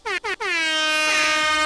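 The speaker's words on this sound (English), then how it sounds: "I'm just going to give myself a little air horn here." An air horn sound effect blares loud and close: two short blasts followed by one long sustained blast.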